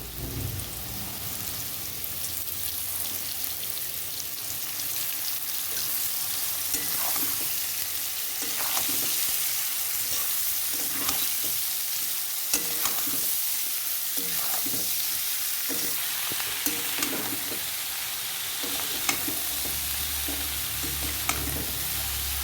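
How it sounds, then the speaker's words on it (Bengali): Cabbage and potatoes stir-fried in a pan for a Bengali cabbage ghonto, with a steady sizzle and crackle of frying throughout and repeated scraping strokes of stirring, close and fairly loud, no talking. "এখন আলুটা ভাজা হয়ে গেছে বাঁধাকপিটা দিয়ে দেব"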